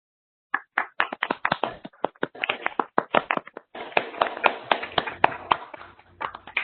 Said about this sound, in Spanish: le den un fuerte aplauso a nuestros ponentes